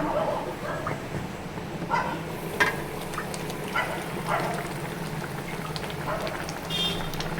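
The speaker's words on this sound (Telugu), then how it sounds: "చూడండి సూపర్గా ఉందండి ఉడుకుతుంది" A pot of fish gravy curry bubbles at a steady low simmer, with soft popping and splutters close by, a few sharper plops rising above the bubbling, and faint background noise throughout.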